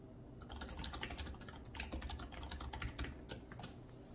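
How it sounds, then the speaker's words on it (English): Steady, rapid tapping of keys on a compact Onn Bluetooth keyboard, clicks coming in quick bursts with no voices, close and fairly quiet. "I'll let you guys just listen to how loud the typing is."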